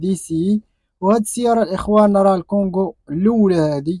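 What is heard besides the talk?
No everyday noises stand out.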